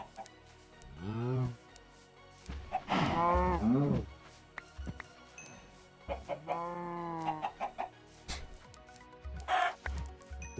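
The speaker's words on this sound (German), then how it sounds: "Als ob das zu viele Kühe sind." Several cows mooing in the Minecraft video game, drawn-out low moos repeating at intervals among other farm animal sounds, with a voice talking in between.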